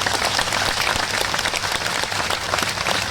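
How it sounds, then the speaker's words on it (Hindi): Audience at a union gathering applauding for BMS, a dense, steady roar of many hands clapping together, close and sustained throughout with no voices rising above it. "साथियों, तो एक तालियां BMS के लिए होनी चाहिए"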